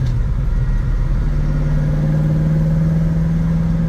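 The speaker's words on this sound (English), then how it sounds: "Car shifts perfect, sounds really good." Inside a 1966 Ford Mustang, its engine hums steadily while driving, a constant mid-pitched drone with a smooth, even tone and no voices over it.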